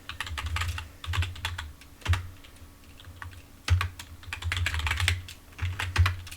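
A computer keyboard is typed on in short close bursts of rapid key clicks while a password is entered, separated by brief pauses, with no voices.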